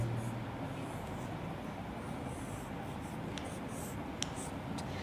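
A pen or chalk writes numbers by hand during a maths lesson, soft continuous scratching strokes with a few sharper taps, faint under steady background hum.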